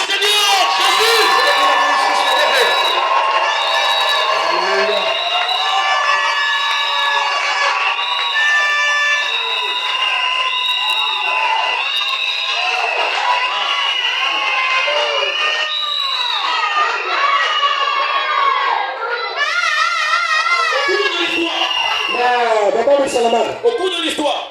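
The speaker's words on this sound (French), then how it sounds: "On acclame le Seigneur Jésus" A large crowd at an outdoor evangelism campaign cheers, whoops and shouts acclaim to Jesus, loud and continuous throughout with many voices overlapping, and a swell of shouting near the end.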